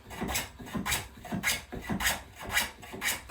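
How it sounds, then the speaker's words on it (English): Rhythmic rasping strokes of a hand plane shaving yew wood, about two per second, steady and close, with no talking. "I started to plane down the corners to gradually turn it into a rounded cylinder"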